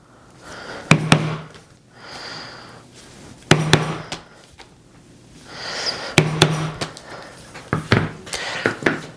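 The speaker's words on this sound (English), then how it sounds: "I get my pound board actually, and I punch these holes into the pattern" Leather pattern being punched with holes on a pound board for a mini tote bag, giving four clusters of sharp, close mallet-on-punch strikes in quick bursts, with quieter rustling between.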